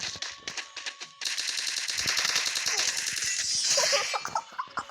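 Rapid bursts of automatic gunfire in a shooting video game, crackling in quick rhythmic strings with short gaps, then a denser continuous spray of shots near the end.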